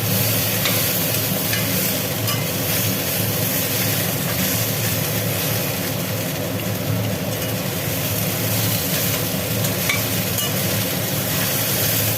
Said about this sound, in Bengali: আলু পেঁয়াজ ভেন্ডি একটু ভাজি হয়ে গেল এবার এর মধ্যে সর্ষের জলটা দিয়ে দেবো